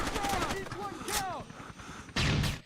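Video game gunfire on an Xbox Series X: a few sharp shot bursts, the loudest near the end, set against game sounds and chirpy tones, with a voice talking over parts of it.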